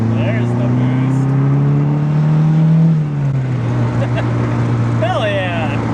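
A Mazdaspeed3's turbocharged engine pulls under boost at quarter throttle, reaching about 18 psi. A loud, steady engine drone holds and rises slightly, then eases off, heard close from inside the car.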